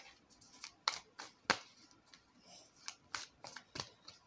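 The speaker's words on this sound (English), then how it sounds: "Just tell me when to stop shuffling." Quick riffling and slapping of tarot cards in irregular bursts, crisp and close, with no voices.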